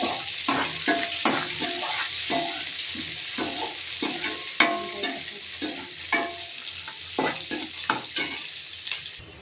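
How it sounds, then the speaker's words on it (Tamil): Onions and garlic frying in a pan give a steady sizzle, broken up by repeated sharp scrapes and taps of a spoon stirring them against the pan. No one speaks. "பூண்டு வதங்கினோடனே வெங்காயத்தை போட்டுருங்க."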